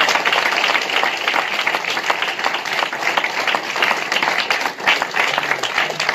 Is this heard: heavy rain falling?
no